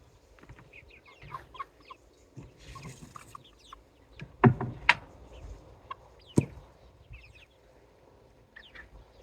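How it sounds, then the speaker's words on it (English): Chickens cluck softly and intermittently while being herded into a coop in a backyard, with a few sharper squawks and bursts standing out against the quiet. "Into bed, chickens."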